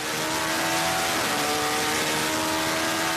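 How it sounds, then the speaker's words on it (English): An Acura LMP prototype race car on track, engine whining loudly and steadily as it accelerates, with rising tonal pitch and a shift partway through, dense and close, no talking. "Up through the gears, the upshift feels good, but I think they can still be faster."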